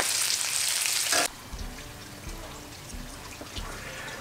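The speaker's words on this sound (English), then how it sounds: "that bacon's actually almost ready to move to the side, and we'll get our burgers on here" Bacon and burgers sizzle on a Camp Chef FTG600 flat top griddle, a loud broadband fry hiss for the first second dropping to a softer steady crackle with scattered pops and faint clatter.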